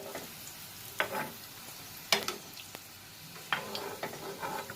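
Vegetables frying separately in oil for cauliflower vegetable biryani, a steady soft sizzle broken by several sharper bursts of stirring and scraping in the pan.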